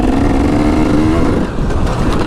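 Motocross dirt bike engine revving loudly and steadily on a dirt track at a dirt park, a close, continuous buzzing drone that holds its pitch before dipping briefly.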